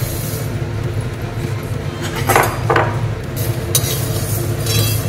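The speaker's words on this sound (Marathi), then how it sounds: "आता आपण उडीद डाळ भाजून घेऊया।" Urad dal being dry-roasted in a pan for Maharashtrian chakli, with steady scraping and light metallic clinks of stirring over a constant low kitchen hum.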